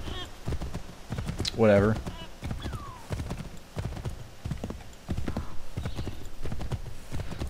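Horse hooves clip-clop in a quick rhythmic gallop along a road in Assassin's Creed III, with a brief neigh early on, while someone talks over the hoofbeats.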